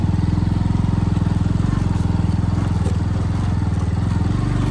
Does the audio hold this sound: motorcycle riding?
yes